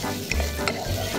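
Onions stirred and frying in hot oil in a pan, a close, steady sizzle broken by a couple of scraping stirs, with no voices.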